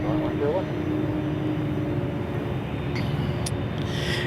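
Aircraft engines drone steadily at Boeing Field, a continuous broad roar filling the clip, with a person talking over it.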